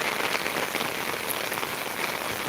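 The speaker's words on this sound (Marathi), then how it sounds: "शांतपणे पाऊस रप रप रप रप पाऊस पडत आहे आणि नुसतं झोडपून काढतंय" Heavy monsoon rain pours down steadily in Beed during flooding, a dense, constant hiss, with no voices or other sounds.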